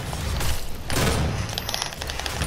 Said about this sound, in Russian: опять меня взрывают